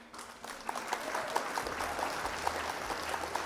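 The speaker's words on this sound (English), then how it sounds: "Round of applause for our opponent here" Applause for an opponent during a card game league match, faint and distant, a steady patter of clapping hands lasting a few seconds with no voices over it.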